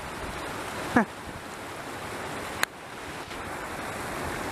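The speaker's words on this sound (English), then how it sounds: "If you look up there, there's a mini little waterfall." Steady rushing water from a small waterfall and flooded trail stream fills the clip with constant broadband noise, broken by two brief sharp knocks.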